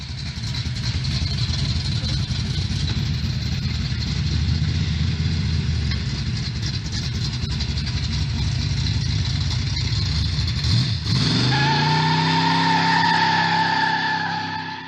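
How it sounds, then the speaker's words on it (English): A GM LG4 305 four-barrel V8 in a Chevrolet Malibu M80 runs at a steady, loud idle with a low rumble throughout, shifting pitch near the end as the engine note drops and settles. "under the hood was GM's LG4 305 4-barrel V8 that made around 150 horsepower and 240 pound-feet of torque"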